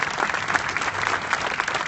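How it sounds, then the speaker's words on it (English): An audience at a building ribbon-cutting ceremony claps in a dense, steady burst of applause that fills the whole moment, with no speech over it. "They deserve a round of applause."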